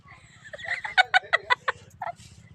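A hen clucks nearby in a quick series of sharp, rhythmic notes, ending with a softer trailing cluck.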